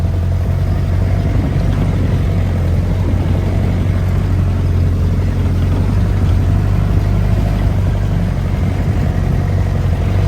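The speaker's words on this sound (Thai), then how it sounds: "นี่ก็จะเป็นรถขี่ไปเที่ยวคาเฟ่" A vehicle engine runs steadily nearby with a low, even drone and a constant loud rumble throughout, and nobody speaks.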